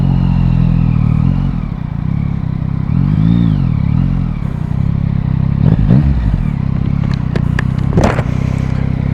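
A new motorcycle rumbles steadily as it is ridden, its engine drone rising and falling with throttle changes, with a few sharp clatters and scrapes toward the end and no voices over the ride.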